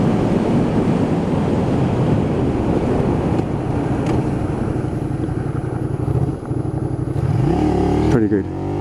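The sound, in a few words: Honda VTR250 motorcycle braking hard to a fast stop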